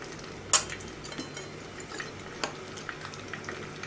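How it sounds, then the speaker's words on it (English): Ground onion paste, made from two medium onions, frying in oil for chicken korma: a faint, steady low sizzle with a sharp scrape near the start and soft stirring taps after it. "And now we have to fry these onions till they become golden or pink."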